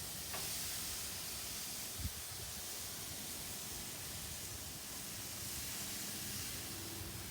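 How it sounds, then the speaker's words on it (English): Steaks sear on a hot grill in a steady, even sizzling hiss that holds at a constant low level throughout, with one small click partway through and no talk. "throw these on and sear them for about 3 minutes aside"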